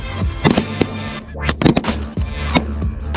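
Shotguns fire at ducks during a hunt: several sharp, loud reports, a few coming in quick succession, with short gaps between the bursts.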